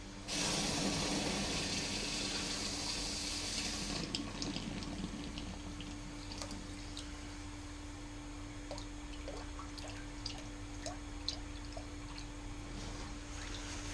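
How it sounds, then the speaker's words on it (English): Flame-hardened steel head, still hot from the torches, plunged into water: a loud rushing hiss and boil that fades after about four seconds into faint bubbling and scattered small drips and ticks. "Just shut these torches off and then quench it quickly."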